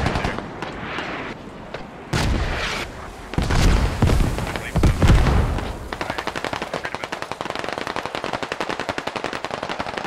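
Artillery and gunfire in the video game SquadOps, heavy booming blasts in the middle giving way to a long rapid machine-gun-like stream of shots, loud and close, with some speech in between.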